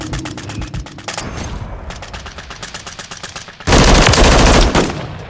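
Rapid automatic fire from an MTZ-556 assault rifle in Call of Duty MW3 on the Rundown map, sounding in close, steady bursts and then a louder, dense volley near the end.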